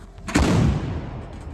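One heavy artillery cannon shot in the Kherson region booms out, sharp onset followed by a rumbling decay that lingers for about a second.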